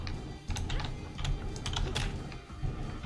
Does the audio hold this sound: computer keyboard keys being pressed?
yes